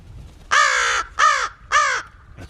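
A pet bird outdoors gives three loud, harsh, crow-like caws in a quick, evenly spaced series, close to the microphone, with only faint background noise between the calls.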